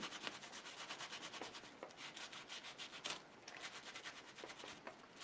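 Soft, steady rubbing as a baby wipe works paint back on a vintage Christmas journal cover, a close, quiet scrubbing with repeated strokes throughout and no talking.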